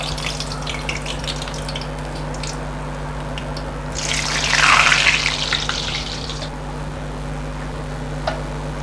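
Potato sev dough made with boiled potato is pressed into hot oil and sizzles. A hissing fry swells up midway over a steady background hum, then fades back down within a couple of seconds.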